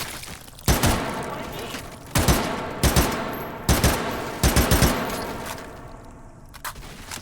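Rapid pistol double taps ring out in the H3VR virtual reality shooter, several loud close pairs of sharp gunshots with reverberant tails, spaced about a second apart.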